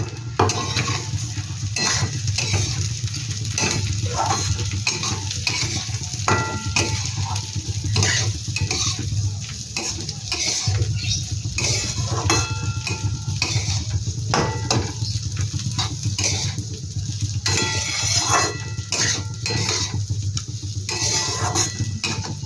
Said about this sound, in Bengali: ডালটা একটু ভালো করে নেড়ে নিলাম।